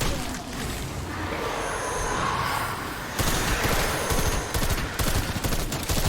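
Shotgun fire in a video game, heavy blasts that come in quick, close, loud bursts, with a busier stretch of rapid shots in the second half.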